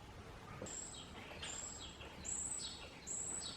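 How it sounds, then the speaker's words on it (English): Faint, high bird chirps come from inside an abandoned hospital under construction, a few brief calls spaced apart over quiet, hollow room noise. "Birds."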